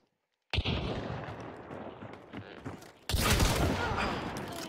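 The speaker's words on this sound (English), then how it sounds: "Can you shoot one more time?" Gunfire in the video game Hunt: Showdown, with a loud, sharp shot bursting in near the start, a stretch of rumbling reverberant combat noise, then a second heavy blast around the three-second mark.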